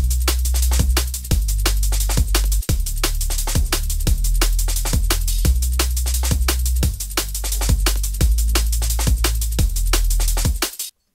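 A drum and bass track plays at a fast, steady tempo, with punchy kicks and crisp hits over a deep, rumbling bassline.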